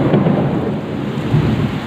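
A deep rumble of thunder rolls through steady falling rain, loud and sustained for the whole moment, with no voices.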